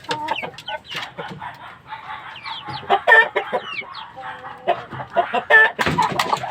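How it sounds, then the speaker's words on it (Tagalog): Several chickens cluck and squawk loudly and close by, a continuous overlapping chorus of fowl calls. "Habang nagsasalita ako nag-iingay yung manok natin."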